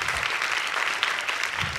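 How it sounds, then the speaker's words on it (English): A couple of claps from an audience at a company kick-off event, a short dense burst of scattered clapping heard at moderate loudness with no talk. "You should hear a couple claps."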